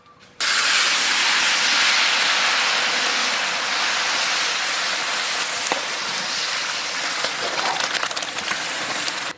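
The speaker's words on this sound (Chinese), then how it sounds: "来，往进倒，倒入碾好的乐子酱。" Stone-ground chili paste is poured into hot oil in a rural Shaanbei kitchen, setting off a sudden loud, sustained hiss and crackling sizzle that stays strong throughout.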